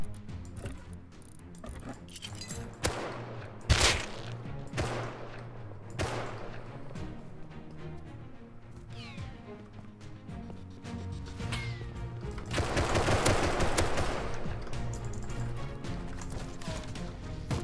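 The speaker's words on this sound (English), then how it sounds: "Oh, that guy's shooting me." Gunfire from another player in Rust, a series of sharp cracks spread irregularly, loudest around 4 and 13 seconds, among clattering footsteps and movement sounds of the game.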